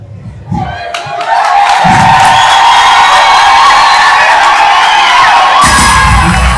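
A crowd at a film launch erupts in loud, sustained cheering and whooping, with shouts rising over a dense roar; a voice speaks briefly before and after the cheers.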